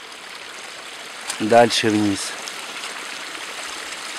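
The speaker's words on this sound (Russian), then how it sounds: "образовавшийся родник размывает дорогу" Spring-fed stream washing across a dirt road and running down a mountain slope, a steady close broadband rush of flowing water that continues throughout, with someone briefly speaking over it.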